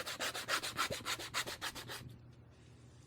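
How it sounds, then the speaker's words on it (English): Nail file rubbed against the edge of a cured resin piece, about a dozen quick rhythmic rasping strokes close up, then the filing stops. "I'm just going to take a nail file, ever so gently at an angle, so you'll never see that shaved line or sanded line"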